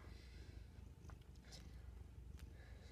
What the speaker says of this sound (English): Just purring.